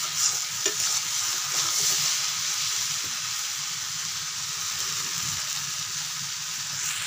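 Potatoes and cabbage fry spread around a kadhai, a dense, continuous sizzle broken by occasional scraping stirs, close and fairly loud.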